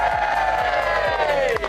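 A crowd cheers and applauds at a medal presentation at the RHS Chelsea Flower Show, a loud, continuous roar of voices and clapping held steady throughout.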